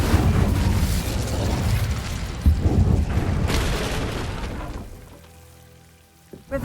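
A fiery Incendio spell from the Hogwarts Legacy video game bursts out as a loud, dense whooshing blast that roars for several seconds, then thins and fades, ending with a brief closing pop.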